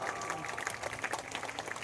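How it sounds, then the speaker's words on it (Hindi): Clapping crowd at a police passing-out parade ceremony, a brief spell of moderately loud applause sounding somewhat distant, with faint voices mixed in. "एक बार जोरदार तालियां।"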